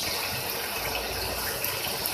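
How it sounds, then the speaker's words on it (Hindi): Water gushes steadily and fairly loudly into a pot of browned, frying chicken, giving a continuous rushing pour with no voices over it. "अब थोड़ा सी से पानी लगाते हैं ताकि अच्छी तरह गल जाए।"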